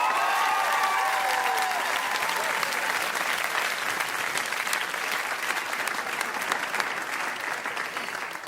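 Studio audience at a Saturday Night Live monologue applauding loudly and continuously, dense clapping that tapers slightly near the end, with no voice over it.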